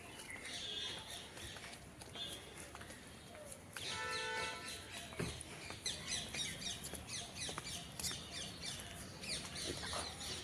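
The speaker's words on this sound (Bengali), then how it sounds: "একটু কান পেতে থাকো, কত রকম পাখির আওয়াজ শুনতে পাবে" Several kinds of birds chirp and call in a quiet outdoor spot, with thin, faint twittering throughout and a louder burst of calls around the middle over a soft background hush.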